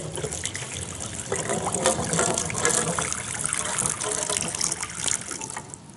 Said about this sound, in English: We're going to put some water in here